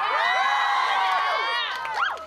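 A crowd at a live band show at Electric Blocks cheers and whoops for the group, with many overlapping sustained yells that are close and loud before trailing into a few scattered shouts.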